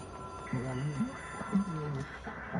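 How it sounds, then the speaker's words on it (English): A telephone rings repeatedly in a video game, a faint electronic double-ring pattern recurring under steady talk. "Alright, I hear the phone ringing."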